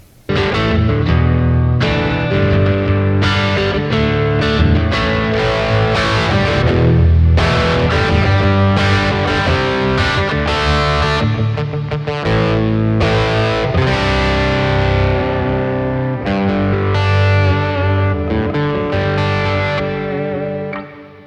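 Fender Stratocaster driven through a Klon overdrive set to a crunch tone, dense distorted chords and riffs strummed loudly and continuously. It plays alone without any voice.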